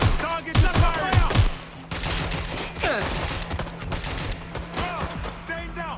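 Rapid automatic gunfire bursts ring out in the video game Watch Dogs: Legion, loud and close, followed by scattered shots and game sounds while a voice speaks over the action.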